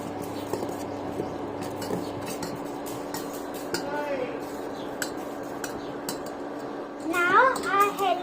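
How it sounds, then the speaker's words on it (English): A spoon stirs thick ragi porridge with cardamom powder in a pot, giving soft scraping and scattered light clinks against the metal, with a voice briefly heard near the end. "Now add the cardamom powder and stir it well"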